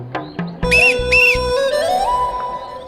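A person whistles from a hidden spot, sharp high tones over a steady tonal music-like background, with brief separate chirps near the start.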